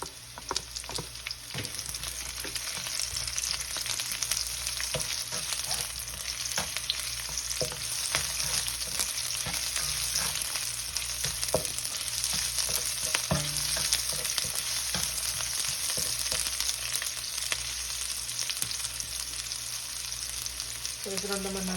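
Onion and golden-browned garlic frying in a pan for pork adobo, a continuous close sizzle with frequent scraping stirs and small clinks from the utensil, steady throughout.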